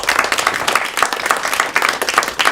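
Sustained audience applause at a conference introduction, dense and steady, with many hands clapping together at close range for the full stretch and no speech over it.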